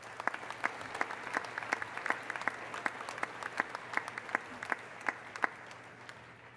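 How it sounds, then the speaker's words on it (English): University commencement audience applauding the professors at a spring afternoon ceremony, a moderately distant, even patter of many hands with a few sharper individual claps standing out, fairly quiet and steady throughout. "Let's give another round of applause for our amazing professors."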